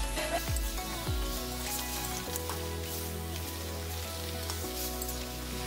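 Prawns fry in mustard oil with a continuous, dense sizzle and crackle, close and steady throughout, and a few soft stirring clinks.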